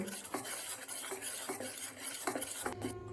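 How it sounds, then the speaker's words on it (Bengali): Cauliflower pakora batter being mixed with freshly added hot oil in a bowl, a spoon scraping and tapping against the sides in an uneven stirring rhythm, close and moderately loud with no voices. "তেল দিয়ে ব্যাটারটা খুব সুন্দর করে মিশিয়ে নিয়েছি"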